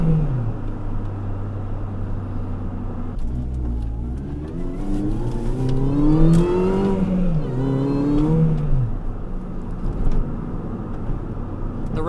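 A modified R53 MINI Cooper S with 244 hp revs hard through first gear, its engine note climbing steeply and winding up fast, loud and close from inside the car during a test drive.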